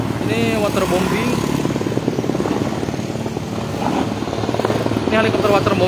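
Water bombing helicopter flying over a burning landfill, its steady rotor beat and engine drone running continuously at moderate distance with voices talking over it.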